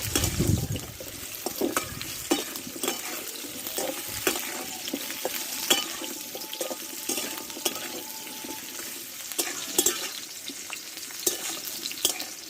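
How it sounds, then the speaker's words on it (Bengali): Potatoes and pointed gourd stir-frying in oil in a pan, with a steady close sizzle broken by repeated scraping stirs of a spatula across the pan, and no talking. "এর ওপরে পটলগুলো দিয়ে দেবো ভালোভাবে একসঙ্গে কষে নেব"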